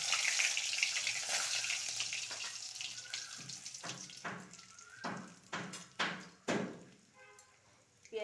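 Bay leaf, cardamom, cloves and panch phoron spices dropped into hot oil sizzle loudly at first, then fade into softer bursts of crackling and hissing, with a voice speaking alongside.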